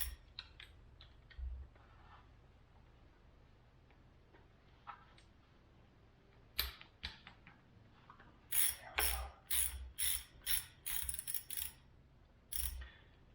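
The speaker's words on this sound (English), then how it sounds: "I'm going to use this adapter to go to my larger wrench" A ratchet wrench with an adapter loosening intake bolts on a 2000 Acura 3.2TL, quiet sparse clicks at first, then bursts of rapid ratcheting clicks close by in the second half.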